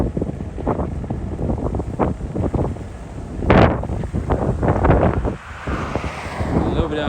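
Wind blowing outdoors along a rural road in South Florida, a continuous gusty rush buffeting the microphone and swelling in stronger bursts partway through.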